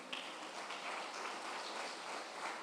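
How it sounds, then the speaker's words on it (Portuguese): Church congregation applauding during a sermon, a faint, distant, steady wash of clapping sustained throughout with no talk over it. "As palmas para o Senhor."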